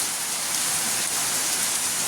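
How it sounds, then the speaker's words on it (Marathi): Heavy monsoon rain pours down steadily, a dense, loud, unbroken hiss of drops drumming on surfaces nearby with no voices. "असा धो धो धो नुसता मुसळधार पाऊस चालू आहे बघा"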